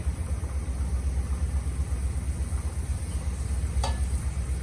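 Diced prosciutto sizzles and crackles steadily in oil in a pan, continuous and close, over a low background hum, with one brief clink near the end.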